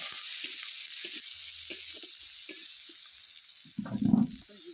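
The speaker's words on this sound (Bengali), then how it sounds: "মশলাটা ভালো করে কষিয়ে নেব" Ground masala of salt, turmeric, chili powder, roasted cumin and coriander powder fries in oil for a thin bata fish curry, giving a soft steady hiss with intermittent stirring scrapes and a louder sizzling burst near the end.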